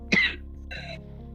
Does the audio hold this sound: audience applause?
no